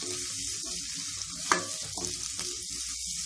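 Chopped vegetables stir-frying in a pan for paneer fried rice, a soft continuous sizzle with scraping stirs and one sharper clink of a utensil midway, no voices.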